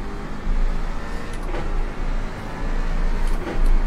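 A car engine in a racing video game at Texas Motor Speedway's combined roval layout, shifted into first gear and pulling away, a steady loud drone that builds toward the end with no talk.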